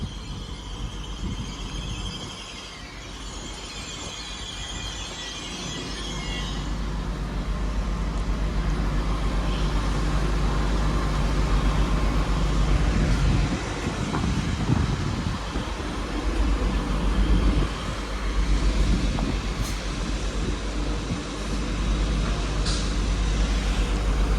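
A three-coach Northern class 195 diesel train, unit 195123, departs Manchester Piccadilly for Manchester Airport, its engine drone and rumble building loud and close, with hissing and air-brake sounds against station ambience.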